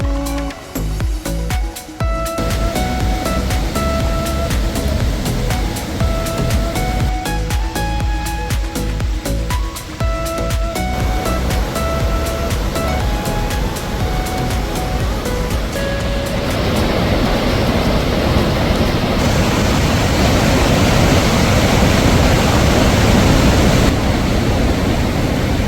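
Iguazu Falls thunders in a broad, steady roar of falling water taken from a helicopter, the rush dense and unbroken, with rotor and engine clatter pulsing through the first half before the water noise dominates.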